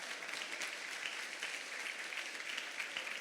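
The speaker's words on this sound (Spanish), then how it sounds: "¿Por qué le damos un aplauso a Dios por el pastor?" A church congregation applauds during a sermon, giving a continuous wash of clapping that sounds somewhat distant and soft and holds steady throughout.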